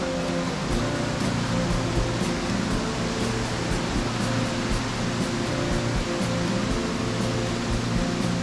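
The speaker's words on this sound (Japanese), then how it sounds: "だんだん水の音が大きくなってきました。" Steady, broadband rushing of a mountain stream fills the whole clip at an even level, water running over rocks nearby along a riverside footpath near Nikko's waterfalls, Japan.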